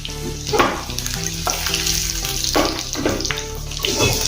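Dry red chilies dropped into hot oil for a tuvar and chana dal tempering, a close, steady crackling sizzle with bursts of sputtering and occasional stirring scrapes, no talking.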